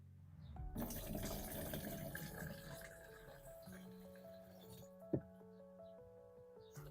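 Water pours into a container to mix a biofungicide paste solution for a melon patch, a splashing fill that starts loud then settles into a quieter trickle, with a voice talking faintly nearby.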